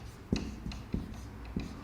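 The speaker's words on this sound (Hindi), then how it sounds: "मैं यहाँ लिखता हूँ" Handwriting during a Hindi biology lesson: several distinct pen or chalk strokes land in a loose rhythm against a quiet room, with no talk over them.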